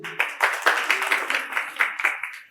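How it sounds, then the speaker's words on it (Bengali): An audience at a quiz prize-giving held at a medical college and hospital claps in a short round of applause, with irregular bursts of hand claps close and lively. "হাততালি।"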